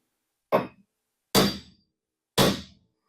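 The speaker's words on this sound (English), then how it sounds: "So I just have a giant chisel and a very large hammer. And just pop it a couple times up here." On a car body under restoration, a very large hammer strikes a giant chisel three times, each blow a loud, close, heavy metallic whack about one second apart, with quick decay and silence between.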